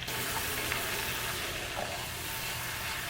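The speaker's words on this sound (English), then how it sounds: "And then we want to mix it all up." A sauce sizzling in a pan while seasoning and paprika are stirred in, giving a steady close frying hiss with faint scraping of the utensil, no talking.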